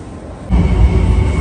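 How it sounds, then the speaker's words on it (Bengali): A large metro train arrives at an underground airport station in China, a loud low rumble that swells suddenly partway through and holds steady, close by, with no talk. "চলে আসছে ট্রেন, বড় ট্রেন।"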